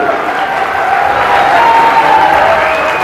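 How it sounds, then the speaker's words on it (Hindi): Audience at a Hindi political rally applauding loudly, a thick continuous wash of crowd clapping and cheering with a faint sustained tone running through it. "एक बार तालियां लगना चाहिए"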